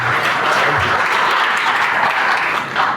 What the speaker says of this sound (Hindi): ताली बजा दिए पादरी के लिए